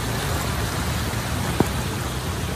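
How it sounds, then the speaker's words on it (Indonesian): Heavy rain pours steadily during a flood in Tanah Kareh, a dense, unbroken roar of falling water hitting surfaces close by, with one faint knock partway through and no talking. "hujan semakin deras"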